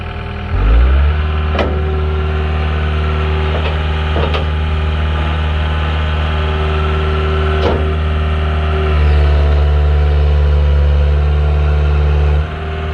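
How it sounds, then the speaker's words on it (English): A John Deere 323D compact track loader's engine starts up, then runs at a loud, steady drone, with occasional metallic knocks and clunks while the machine is raised. "Now we'll show you how to lift the machine up right away."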